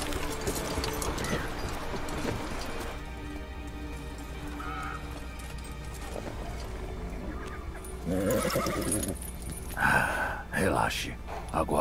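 A horse in The Witcher 3: Blood and Wine whinnies several times near the end, loud and close, above ambient game sound and hoof clops. Someone talks over the earlier part.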